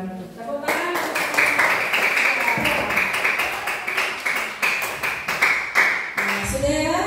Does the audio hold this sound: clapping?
yes